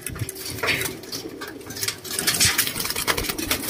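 Racing pigeons coo repeatedly in soft, throaty bursts, close by, with faint rustling and clatter in the background.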